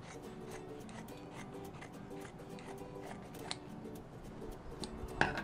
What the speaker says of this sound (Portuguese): aqui eu vou tirar com a tesoura mesmo